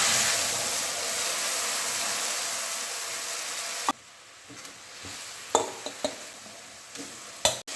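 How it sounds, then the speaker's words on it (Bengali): Spice paste for a home-style Bengali potato and green banana curry hitting hot oil: a loud, steady sizzling hiss for several seconds, then dropping to a quieter simmer punctuated by a few sharp spoon knocks against the pan. "এই মশলাটা এখন তেলে দিয়ে দেবো"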